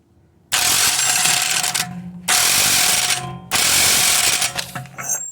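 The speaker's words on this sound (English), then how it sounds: "This particular wrench will only produce about 300 foot-pounds of tightening torque" An impact wrench rattles in three loud, rapid hammering bursts, tightening a 32 mm 12-point axle nut on the rear axle of a BMW E61, with short pauses between bursts.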